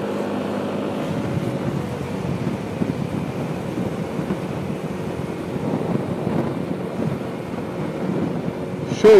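Steady, rumbling wind buffeting the helmet and windscreen of a Yamaha Nmax 155 scooter at highway speed with a touring screen fitted, a continuous low roar with no break and no talk.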